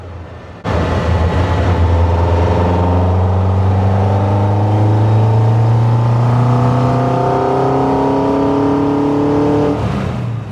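A Caterham sports car driving at Cadwell Park on a track day with cold tyres, its engine loud and close throughout, pulling through steadily rising revs across several gear changes.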